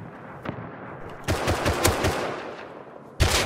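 Gunfire in the video game Rust, a single shot followed by a rapid automatic burst and a final loud volley, close and sharp with no talking over it.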